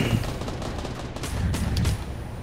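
Gunfire in the video game Fortnite rattles in quick bursts over a steady low rumble of game sound, close and fairly loud, with no clear speech.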